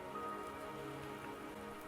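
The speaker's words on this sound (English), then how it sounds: "Don't worry, the rain won't last much longer." Rain falling in the Wuthering Waves video game, a steady soft patter of drops on surfaces, even and continuous, quiet, with no talking.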